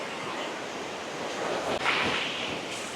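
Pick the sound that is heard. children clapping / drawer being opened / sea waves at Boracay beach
sea waves at Boracay beach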